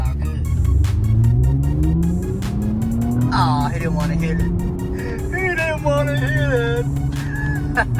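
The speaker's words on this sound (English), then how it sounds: "Let's see if I can take this Camaro off the line, man." A Chevrolet Camaro launches hard off the line at a car meet, engine revving up through rising pitch sweeps with tire squeal, loud and close, while people shout and talk over it throughout.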